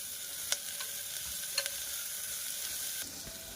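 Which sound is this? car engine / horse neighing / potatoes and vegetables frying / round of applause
potatoes and vegetables frying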